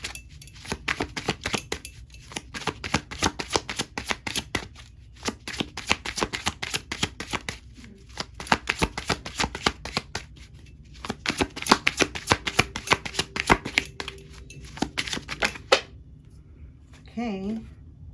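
Tarot cards being shuffled by hand in repeated bursts of dense, crisp riffling flutter, pausing briefly between rounds, close and moderately loud, with a short voice sound near the end.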